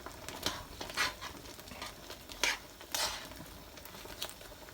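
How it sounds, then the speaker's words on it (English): Jamaican peppered shrimp cooking in a pot as a tablespoon of butter goes in, a soft background sizzle broken by several sharp clinks and scrapes of a utensil against the pot, close and fairly quiet, no talking. "So I'm just gonna add in a tablespoon of butter in it as well"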